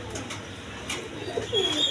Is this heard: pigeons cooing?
yes